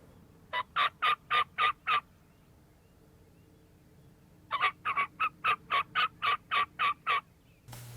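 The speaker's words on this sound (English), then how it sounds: "turkeys are still moving one direction and then back, not coming any closer just yet" Wild turkeys gobble outdoors in two bursts, a quick run of six rhythmic calls followed after a pause by a longer series of about ten, fairly close and clear over a quiet background.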